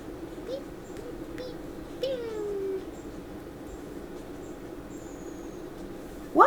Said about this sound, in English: What a great bird that's outside. I don't think I've ever heard this bird before.